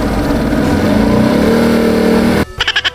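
A toy-like monster truck engine roars and revs loudly and continuously, then cuts off into a few short sputtering bursts.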